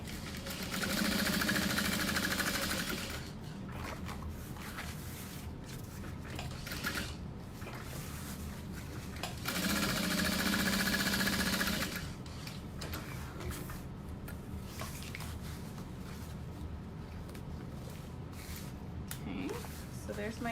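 A sewing machine runs a decorative butterfly stitch on a handbag, whirring steadily in two distinct runs separated by a quieter stretch of faint handling noise.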